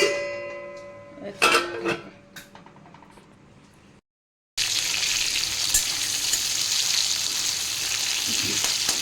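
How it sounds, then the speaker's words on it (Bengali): Black cumin and dried red chillies hit hot oil for tempering, giving a bright, continuous sizzle after a few clanks and stirring sounds, then a short gap before the loud hiss fills the rest. "ফোড়নে দিলাম কালো জিরে আর শুকনো লঙ্কা"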